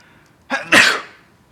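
A single sharp human sneeze, a brief intake followed by a loud explosive burst that trails off quickly, close and alone in an otherwise quiet room.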